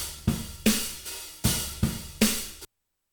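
Acoustic drum kit with a replacement snare sample, the old snare in the overheads ducked by a dynamic EQ on each new hit; five or six sharp, roomy hits in an uneven groove with ringing tails, then abrupt silence.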